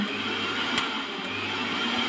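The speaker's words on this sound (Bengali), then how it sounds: "এই দেখুন ব্লেন্ডার মেশিন চলছে।" A repaired blender machine runs with an even, droning motor whir that stays steady throughout, close and fairly loud, with no one talking.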